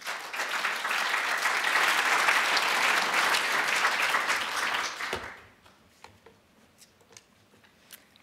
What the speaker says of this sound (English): So, warm applause for Vivian.